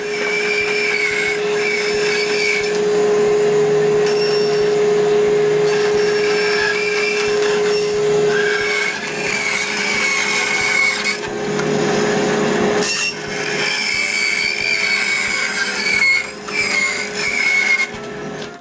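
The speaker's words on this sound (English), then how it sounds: "Next, the shape is cut on the bandsaw." Wood is cut on a bandsaw to shape pieces for a wooden Christmas tree, giving a loud, steady machine drone with rough cutting noise that rises and falls along the cut, with no voices.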